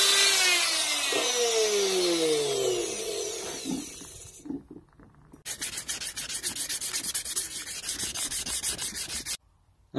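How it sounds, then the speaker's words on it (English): Steel is hand sanded toward a 500 grit finish, giving close, loud scraping strokes that turn into a fast, rhythmic rasping run before stopping abruptly. "There we go, hand sanded back to a 500 grit finish."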